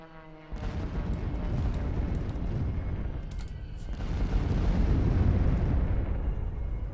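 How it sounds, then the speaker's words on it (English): Carpet bombing in the card game KARDS lands as a sustained roar of rumbling explosions that starts abruptly and swells louder partway through, with scattered sharp crackles on top. "Carpet bombing."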